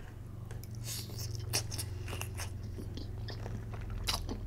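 Shrimp fried rice is chewed close to the mic, giving sharp, crisp crunching bites and wet mastication clicks at an irregular pace over a low steady hum, with no talking.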